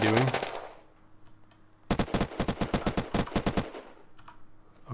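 Rapid automatic gunfire from a weapon in the video game Unturned, a loud burst of a few shots followed after a pause by a longer rattling volley of evenly spaced shots, with no talking.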